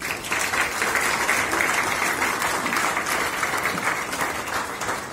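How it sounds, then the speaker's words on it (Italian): Steady applause from an audience at a press conference, a dense wash of clapping that holds at an even level throughout. "Applauso."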